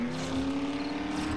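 A vehicle driving in the survival game 7 Days to Die, its engine holding a steady, close droning hum at constant speed without gear changes or talk.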